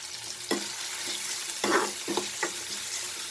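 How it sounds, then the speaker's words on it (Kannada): Aloo matar masala, potatoes and peas in spices, fries in a pan with a steady sizzle, broken by several sharp scraping stirs of a spoon against the pan, close and clear. "ಸ್ವಲ್ಪ ಫ್ರೈ ಮಾಡ್ಕೊಳ್ಳೋಣ."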